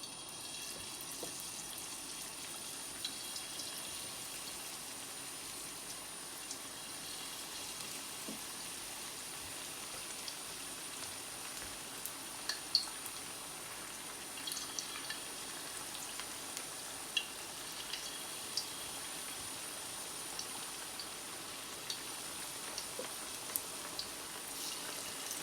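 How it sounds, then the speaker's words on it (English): Thai fried chicken frying in hot oil gives a steady soft sizzle with scattered small pops and crackles, close and continuous and free of talk. "Now I'm going to start to frying this one and put it in hot oil."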